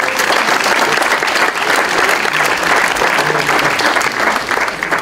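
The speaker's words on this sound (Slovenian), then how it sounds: "daj en aplavz Retorbitu" Sustained applause from a conference audience at a multichannel marketing talk, loud and dense throughout with no speech over it.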